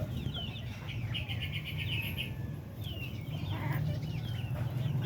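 Free-range native Darag chickens clucking and moving about in a farm pen, with a steady outdoor bed of bird calls and occasional wing flaps, no talking.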